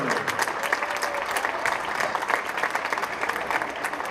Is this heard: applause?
yes